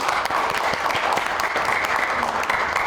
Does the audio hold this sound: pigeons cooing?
no